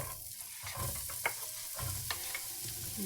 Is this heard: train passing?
no